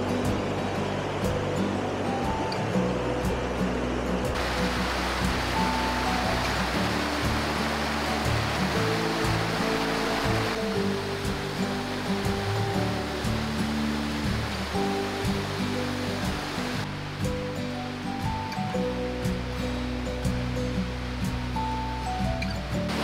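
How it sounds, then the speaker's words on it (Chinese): Whitewater rapids on the Oirase Gorge stream in autumn roar in a loud, steady, unbroken rush of water that fills the whole clip, with no voices. "然后就看到了很漂亮的水流和瀑布，也不算瀑布啦，就是激流"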